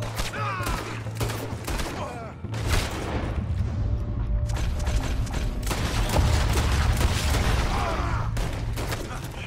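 Gunfire from Red Dead Redemption 2 during a train heist involving an oil wagon, with rapid shots and a dense fusillade crackling alongside clanking mechanical noise throughout, loud and close.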